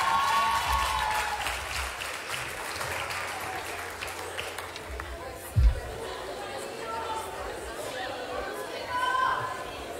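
A live concert audience applauds, a dense wash of clapping with crowd chatter mixed in, strongest at the start and easing off, with one thud near the middle and a brief swell near the end.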